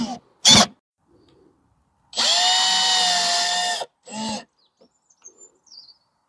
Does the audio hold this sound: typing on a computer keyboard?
no